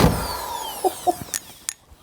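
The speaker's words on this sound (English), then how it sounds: "So we're drilling a hole in the wall." A powerful power drill boring a hole through a wall whines loudly and then spins down, followed by a few short knocks and clicks as it stops.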